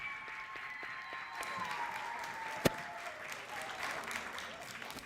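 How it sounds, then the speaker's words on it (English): Audience applause for a magician, a steady wash of clapping that stays fairly even for several seconds with one sharp knock partway through. "Let's give another round of applause for the Amazing Maurice."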